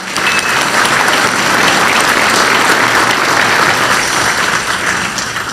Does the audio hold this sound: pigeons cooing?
no